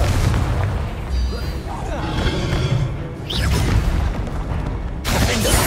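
The Confringo blasting spell in Hogwarts Legacy lets off a loud, dense booming explosion that rumbles continuously with whooshing bursts. A fresh blast hits near the end, and a voice is heard under it.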